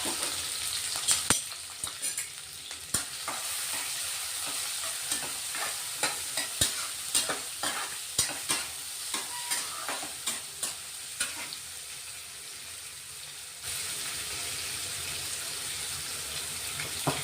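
Chopped onion and capsicum fry in a pan while being stirred, a constant sizzle broken by repeated scraping strokes, then a quieter sizzle for the last few seconds.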